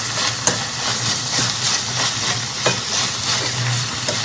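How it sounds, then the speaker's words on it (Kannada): Beans, carrot and capsicum frying in a pan for street-style egg fried rice, a steady loud sizzle with a few sharp spatula scrapes and clacks against the pan at irregular intervals. "ಇದೆಲ್ಲ ನೀಟಾಗಿ ಫ್ರೈ ಮಾಡ್ಕೊಂಡು"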